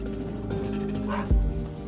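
A Chukotka sled dog, the breed behind Siberian huskies, gives one short bark in an Arctic sea-ice village, set against a steady low background hum.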